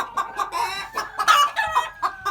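An unhappy chicken clucks repeatedly inside a coop, a close, agitated series of squawking calls in an uneven rhythm.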